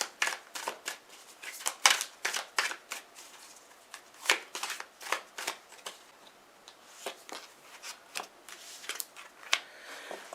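Tarot cards shuffled by hand in a quiet room, giving a close series of crisp riffling bursts in an uneven rhythm, with no talk.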